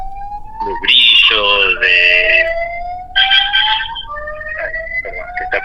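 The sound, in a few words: ambulance siren passing by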